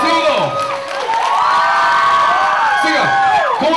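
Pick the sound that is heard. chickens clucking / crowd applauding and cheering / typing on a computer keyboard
crowd applauding and cheering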